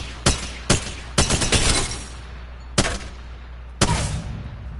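A gun fires in the video game Apex Legends, heard as several sharp close shots: single cracks and a short rapid burst, separated by brief pauses.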